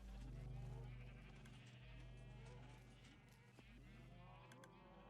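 Sheep bleat in the video game Minecraft, with a few wavering calls heard fairly close over a low, steady game background.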